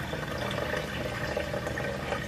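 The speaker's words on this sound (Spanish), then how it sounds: "Ya no tiene agua la cafetera, así que tengo que ponerle." Water is poured into a coffee maker in a home kitchen, a steady continuous splashing trickle that stays even throughout, heard alone.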